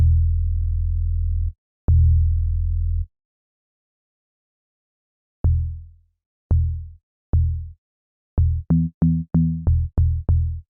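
Synth bass notes built from short grains in the Padshop 2 granular synth, deep plucky tones with quick decays, first two longer held notes, then sparse single hits and finally a fast run of short notes.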